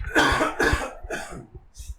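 Several harsh coughs in quick succession, close and fairly loud, followed by a fainter cough after a short pause.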